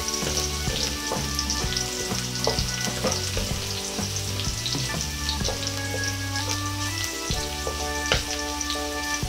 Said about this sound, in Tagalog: Hahalu-haluin lang po muna natin habang ginigisa natin itong ating bawang para hindi po siya masyadong sunog.